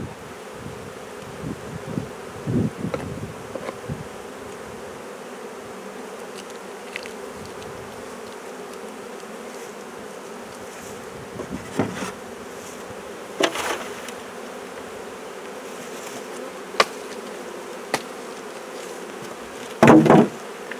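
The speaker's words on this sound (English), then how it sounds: "flying bees are going back to the box" Steady honey bee buzzing hums throughout around an open hive box, with occasional sharper knocks and a brief clatter near the end; no voices.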